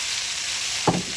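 Sausages sizzling in a pan with peppers and onions, a steady close hiss with a brief scrape of stirring near the end.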